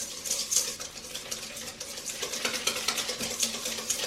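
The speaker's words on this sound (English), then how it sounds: "And you can go ahead and whisk that in. It might just be easier to go ahead and whisk it in." A whisk beats sugar into a melted butter mixture for Christmas cookies, giving close, continuous rapid scraping and swishing against the bowl with a fine wet crackle.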